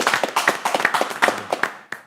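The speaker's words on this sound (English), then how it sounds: "Hand of applause." Irregular hand claps from an audience after a talk, several quick claps in a loose rhythm, fairly close, with no voices.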